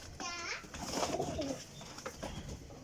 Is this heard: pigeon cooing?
yes